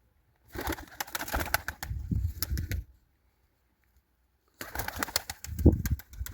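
A racing pigeon hen in a loft coos softly in rough bursts, with wing flutters and rustling around a pause, fairly close and quiet with no talk.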